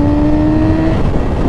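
A motorcycle engine revs loud and close as the throttle is twisted on the street, a steady droning roar held for the whole short moment.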